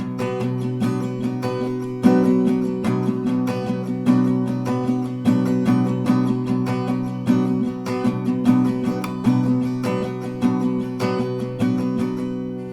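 An acoustic guitar strums a rhythm in a steady down-up pattern with accented strokes, close and even, with no voices.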